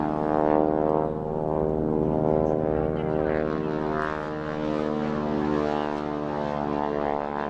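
A propeller aircraft flies near East Midlands Airport, its steady, loud engine drone holding strong harmonic tones throughout with a slowly shifting pitch and no talk.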